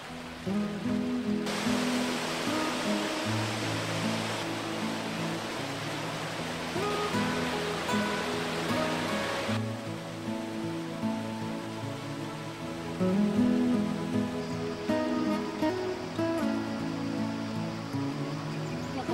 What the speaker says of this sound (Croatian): Ovo je jedan od njezinih izvora u Peć Mlinima.